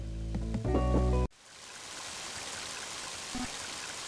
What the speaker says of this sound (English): Mighty heavy rain, isn't it?